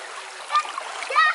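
River water splashes briefly as someone washes their face in a clear village stream in Indonesia, with short close splashes over a steady flowing background.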